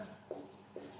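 Marker or chalk strokes on a board during a lecture, two short, soft scratches about half a second apart against faint room hiss, with no speech.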